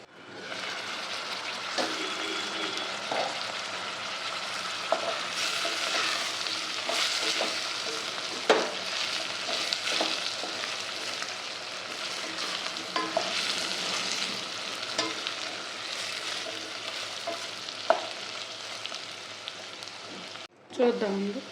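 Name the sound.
potatoes frying in a pan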